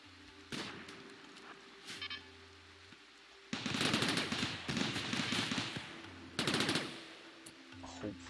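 Gunfire aimed at a turret in the RimWorld video game, sputtering bursts of shots that grow into dense sustained volleys mid-clip, loud and near, over a steady low game hum.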